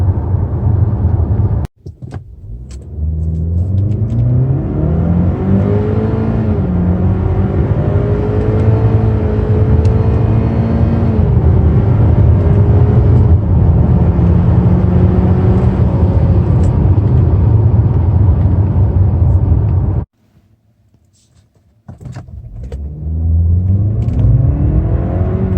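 Steady road and engine noise inside a moving 2019 Buick Envision with a 2.0L turbo on older smooth pavement, a continuous low hum with shifting engine tones, briefly cut off near the end and then resuming.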